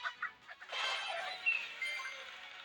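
Chickens clucking and squawking on a poultry farm in the video game Squad Busters, a busy burst of bird calls that swells after a few short clucks and keeps going, fairly close.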